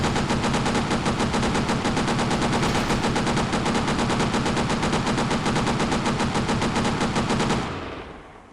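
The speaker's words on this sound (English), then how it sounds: "This is a very powerful gun." Sustained rapid automatic fire from a powerful gun in a video game, loud and continuous for several seconds before cutting off with a brief fading tail, no voices.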